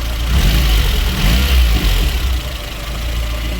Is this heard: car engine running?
yes